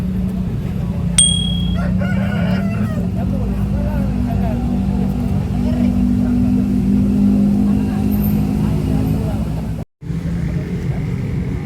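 Bangkok chickens at a chicken market in Makassar: roosters crow and fowl cluck amid constant crowd chatter and passing traffic noise, with a brief drop to silence near the end.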